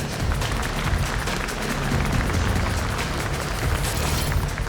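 A crowd at a bare-knuckle fist-fighting league event gives loud, continuous applause for a fighter, a thick wash of clapping and noise that holds steady for several seconds.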